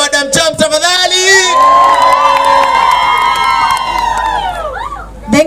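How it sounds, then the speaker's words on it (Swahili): A rally crowd cheers, shouts and whoops loudly and close for several seconds, with high children's voices among the cheering. "wapi kelele ya Madam Chaps tafadhali?"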